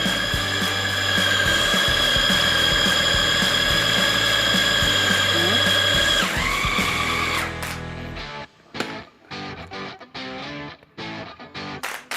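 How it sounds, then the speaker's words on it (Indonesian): A machine mixing siomay dough runs with a loud, steady mechanical whir and ratcheting grind for several seconds, then stops, leaving a few scattered clunks and handling knocks. "Kita masukkan ke alat ini. Kita aduk, kita tunggu sampai semuanya memang benar-benar tercampur rata."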